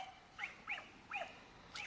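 Several dogs whimper and whine in a garden, four short high-pitched cries spaced about half a second apart, faint and fairly distant with no talking.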